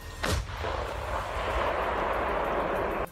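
A Swedish Archer self-propelled artillery gun fires a shell with one loud, sharp blast, then a long rolling rumble that holds steady before cutting off.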